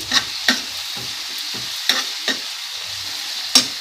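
Gongura pickle mixed with hing is stirred in a pan, a faint sizzling bed with sharp spoon scrapes and taps arriving every half second or so, close and with no voices.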